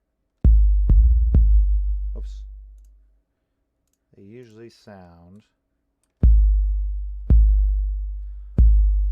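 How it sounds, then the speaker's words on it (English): An 808 bass made in FL Studio plays several deep, booming notes that sustain and decay, in two groups separated by a short spoken remark. "So when you have an 808, they usually sound like this."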